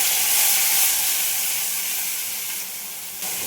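Cumin, curry leaves and asafoetida sizzle in hot oil as a tempering for a cauliflower dhokli curry, a steady bright hiss that stays loud throughout and fades slightly toward the end.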